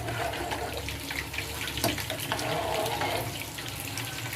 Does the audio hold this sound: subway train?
no